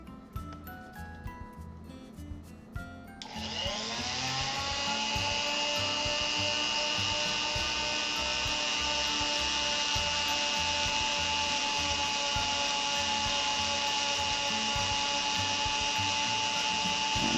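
Mini fine buffing wheel polishing polymer clay, spinning up into a steady, loud whirring whine that holds unbroken after a few seconds of lighter handling noise.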